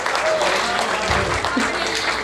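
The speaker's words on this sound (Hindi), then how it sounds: "ताली हो जाए।" Applause from the audience at a Hindi comic poetry gathering, a steady, dense wash of clapping that holds for a couple of seconds, with voices and cheers mixed in underneath.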